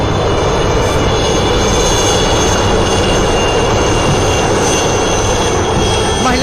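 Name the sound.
army helicopter flying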